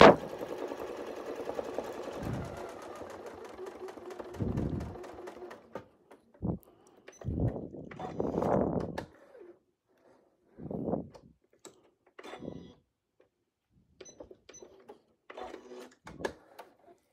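A sewing machine stitches a curve along a Westalee Artisan curve template, running in a few seconds of steady whirring at the start, then in short separate bursts with quiet gaps between them.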